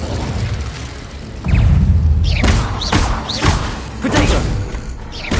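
Fiery spell blasts in the Hogwarts Legacy game: a heavy thudding whoosh of flame bursts out, followed by several sharp crackling hits and pops that rise over a steady low rumble of combat.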